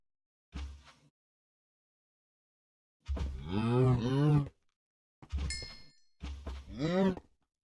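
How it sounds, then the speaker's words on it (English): Several Minecraft cow moos, some long and drawn out, separated by silent gaps; close, clean and synthetic-sounding, with a brief ding mixed in. "Hello, cattle."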